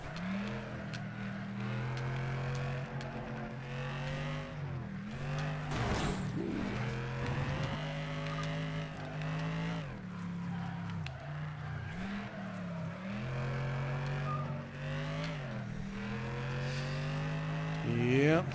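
A car engine in the Flatout racing game revs hard and steadily for the whole stretch, its pitch rising and dropping with gear shifts and throttle changes. A brief crash-like burst cuts in partway through, and the constant roar stays loud and close.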